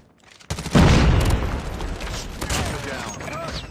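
Grenade explosion in Call of Duty: Mobile during a Capture the Flag match on the Crash map: a sudden loud blast that rolls into a long rumbling tail, with gunfire crackling and game voices calling out.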